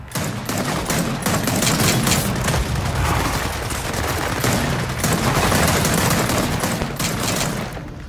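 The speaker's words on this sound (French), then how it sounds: "c'est parti pour une petite séance de pistolet" In the Gears of War 4 video game, sustained gunfire keeps up as a dense, loud barrage of overlapping shots and booms. Pistol fire is mixed into the steady combat noise, with no talking.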